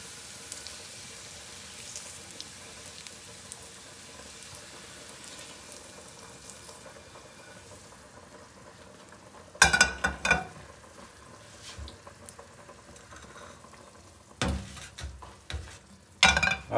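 Carrots roasting in a pan for Kabuli pulao give off a faint, steady sizzle, later broken by loud bursts of stirring and scraping against the pan.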